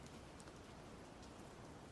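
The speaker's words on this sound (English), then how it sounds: "And a little rain on the windows." Light rain patters softly against windows, a faint, even hiss with scattered small drops, steady throughout with no voices.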